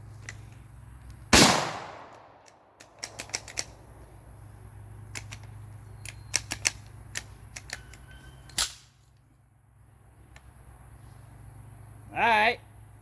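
A single loud, sharp blast from a cheap G-Force Tactical shotgun loaded with buckshot, followed by scattered smaller pops and clicks, another sharp crack later and a brief burst at the end, with speech present.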